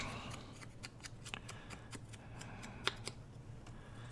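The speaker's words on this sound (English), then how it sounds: "I think I'll cut some of these out smaller" Scissors cut small paper tea cards for a scrapbook layout, making a series of quiet, quick snips and paper rustles at close range.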